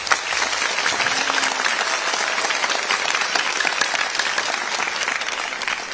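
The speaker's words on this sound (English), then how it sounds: "go ahead and give them a round of applause for that" A school concert audience at a middle and high school band spring concert claps loudly and continuously for the band, a dense crackle of many hands that holds steady throughout.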